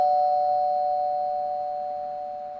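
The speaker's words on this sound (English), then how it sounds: "Can you hear the doorbell now?" A doorbell chime rings out with a steady sustained tone that slowly decays, heard clearly and alone with no voices.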